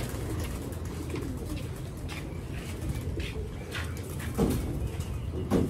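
Pigeons cooing nearby among a loft of birds, soft repeated low coos layered over a murmuring background with a few brief rustles and flutters.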